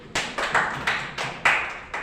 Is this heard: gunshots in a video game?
no